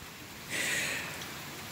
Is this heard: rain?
yes